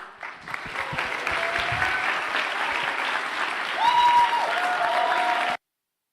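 Sustained applause from an audience honoring award winners at an Air Force ROTC change of command ceremony, steady and fairly loud for about five seconds, swelling slightly near the end before stopping abruptly.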